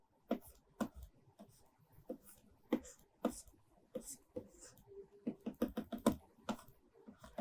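Chalk or marker strokes on a classroom board while a diagram is drawn, a series of short scratchy taps and swipes in uneven rhythm, close and fairly quiet, with no talking.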